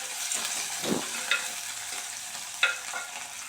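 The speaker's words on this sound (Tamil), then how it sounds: "வெங்காயம் தக்காளி எல்லாமே வந்து பார்த்திங்கன்னா நல்லா வதக்கி நம்ம எடுத்துக்கலாம்" Onion and tomato sautéing in a pan for beetroot gravy produce a constant nearby sizzle, with several distinct stirring scrapes and clinks against the pan.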